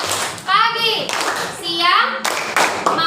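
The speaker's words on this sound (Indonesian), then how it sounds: "sambil menunggu Almira kita tepuk tangan lagi ya" Children clapping their hands in a classroom, bursts of rhythmic claps alternating with children's chanting voices, close and lively.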